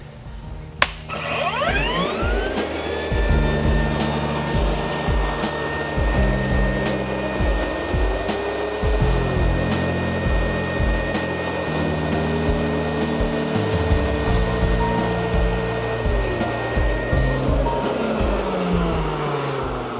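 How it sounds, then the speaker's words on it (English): Rainbow E2 Black vacuum cleaner running steadily with its power nozzle spinning, a loud continuous motor drone with shifting pitch and rumble throughout, starting with a switch-on click. "So now we're just gonna go ahead and turn it on, see if the power nozzle's spinning correctly and working correctly"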